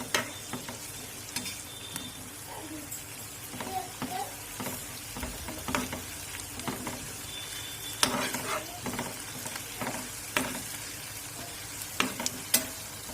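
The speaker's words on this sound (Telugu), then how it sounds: "ఇలా మంచిగా వేయించుకోవాలి." Fenugreek leaves frying and being stirred in a pan for menthi dal, a steady close sizzle broken by frequent clinks and scrapes of the spoon against the pan.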